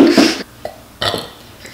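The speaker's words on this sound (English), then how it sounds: "That was the 4th burp this video." A person burps loudly and close up during a mukbang eating session, one strong belch followed by a shorter second one, with no talk over it.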